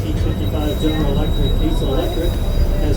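A 1955 General Electric diesel-electric locomotive, with two Detroit diesels driving generators that feed electric motors on the wheels, hauls a train uphill at a Colorado train museum. A loud, steady rumble of engine and rolling wheels fills the scene.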